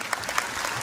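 A burst of dense crowd applause at a Tipra political party gathering, loud and continuous through a brief moment, with a couple of sharper claps near the front.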